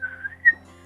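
A person whistles a short, soft tune of a few sustained notes with a brighter accent near the end, close and quiet over a faint steady hum.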